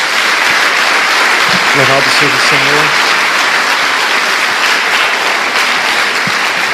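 Church congregation applauding for Jesus during a Portuguese sermon, a steady loud wash of clapping throughout with a voice briefly speaking over it.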